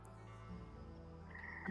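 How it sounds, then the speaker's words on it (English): Frogs croaking in a swamp ambience, faint low croaks and a brief higher chirp over a soft droning background, quiet and distant in a tabletop game soundscape. "Those are frogs,"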